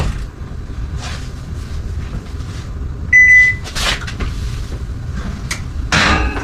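Metal sheet tray and baking rack being set out in a home kitchen for bread pudding, with a few sharp clanks and clatters, one brief ringing metallic tone, and a scrape near the end, all close by with no talk.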